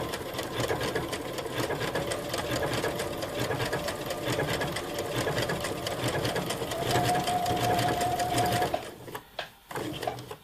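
A sewing machine runs at full speed in one continuous, fast, loud whir for about nine seconds, then slows and stops with a few soft clunks.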